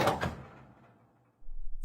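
The small metal door of a home fuse box opens with two quick close clicks and a short rattle, then quiet, ending with a brief low rustle.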